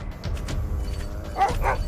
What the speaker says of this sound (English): I don't want to kill the dogs.